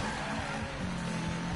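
A car drifting in the Need for Speed racing game, its engine roaring steadily with tires squealing through the slide, loud and continuous throughout.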